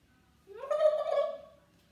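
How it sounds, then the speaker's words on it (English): A turkey lets out a single rattling gobble lasting about a second, clear and close against a quiet background, with no talking. "A rather large bird whose name was Turkey Lurkey"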